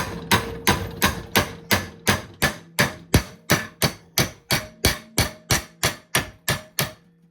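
Steady, rhythmic hammer blows bending scrap steel held in a vise, around seventeen evenly spaced hits ringing loudly and close up, with no talking.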